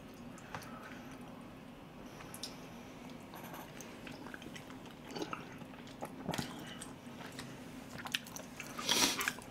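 Close, soft chewing and biting of abalone rice porridge with occasional crunchy clicks, steady and quiet over a low room hum, with a louder burst near the end.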